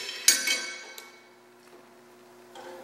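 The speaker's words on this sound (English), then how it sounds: "And we'll clamp it" A steel plate being clamped before tack welding, one sharp metallic clink with a ringing tail, then a softer tap and another faint metal knock near the end.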